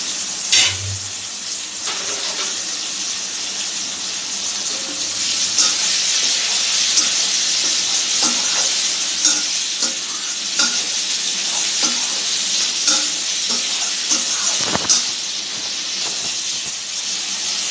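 Oyster mushrooms fry with capsicum in a pan, making a strong, continuous hiss and sizzle close up, broken by scattered scrapes and clinks of stirring.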